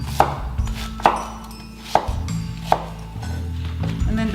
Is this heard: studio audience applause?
no